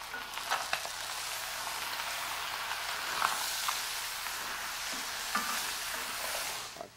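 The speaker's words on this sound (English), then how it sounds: "We're going to mix really well so the tomatoes will start to give out their juice." Chicken stirred with peeled, seeded, finely chopped tomatoes in a pan for a Colombian chicken stew, a steady gentle sizzle with occasional scraping and clinking of the spoon, close and moderately quiet.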